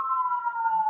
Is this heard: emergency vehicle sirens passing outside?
yes